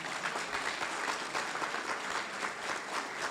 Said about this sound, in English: a round of applause in honor of his promotion